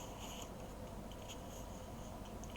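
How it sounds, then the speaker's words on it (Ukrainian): Pupils write down the words of a classroom dictation, faint steady scratching of pens on paper in a quiet room with no talking. "Запишіть, будь ласка, слова."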